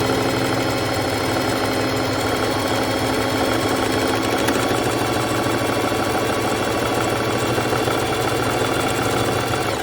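A bernette b05 sewing machine stitches a buttonhole with a steady, continuous mechanical whir and a fast rhythmic rattle. The sound is close and even throughout, with no talking.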